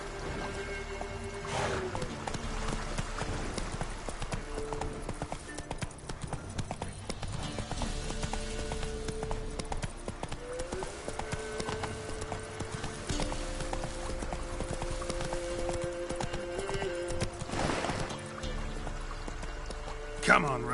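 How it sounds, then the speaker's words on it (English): Roach the horse gallops in The Witcher 3, hooves clip-clopping in a steady rhythm throughout under game music, while a voice urges the horse on. "Come on, Roach. Giddy up"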